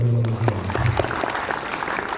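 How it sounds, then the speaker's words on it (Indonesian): Crowd applause at the Future Leader Fest 2023 event, honouring a guest, a busy mass of clapping hands at fairly close range that starts after a brief low tonal sound and holds steady to the end. "Tepuk tangan juga untuk beliau"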